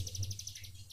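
A ciblek gunung songbird chirps in a rapid series of high, repeated tweets, close and fairly clear over a low steady hum.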